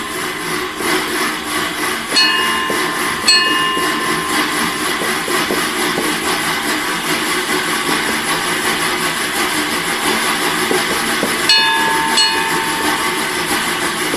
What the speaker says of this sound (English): you close your eyes and it sounds like a train